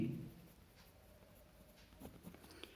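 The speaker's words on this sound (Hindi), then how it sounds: "हम नोट लिखेंगे" Faint pen or chalk strokes from notes being written during a maths lecture on quadratic equations, a few soft scratchy marks after a brief low thump, quiet and close with no talk.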